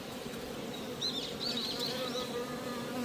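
Honeybees buzz steadily around a hive during hive inspection, a continuous close insect drone with a few brighter wingbeat swells, no voices.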